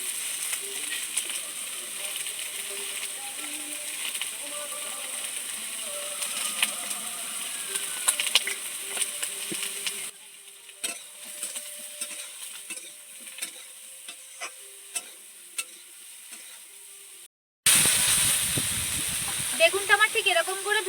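Eggplant frying in oil with salt and turmeric added, a steady crackling sizzle with scraping stirs, then a quieter patch of sporadic spatters, a brief cut, and a renewed louder hiss at the end.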